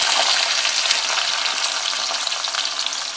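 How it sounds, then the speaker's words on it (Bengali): Pointed gourd and okra fry together in oil in a wok, producing a loud, close, continuous hissing sizzle with a fine crackle throughout. "কড়াইয়ের তেলে আগে আমি পটল আর ঢেঁড়সটা ভেজে নেব।"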